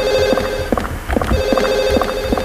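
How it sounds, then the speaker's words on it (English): A telephone rings repeatedly in the Silent Hill video game, its electronic trilling bursts recurring in a steady rhythm over a low ambient background hum, with no talking. "The phone's probably coming from my room, isn't it?"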